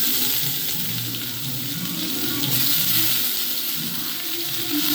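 Potatoes frying in coconut oil in a pan give off a steady, close, hissing sizzle that stays even and unbroken throughout, with no voices over it.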